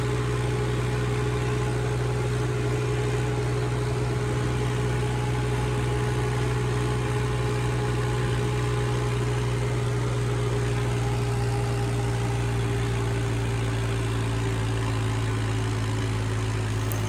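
A Massey Ferguson 7250 tractor engine drones steadily with a deep low hum and a constant pitch while climbing a long bridge, running without pause throughout and close by.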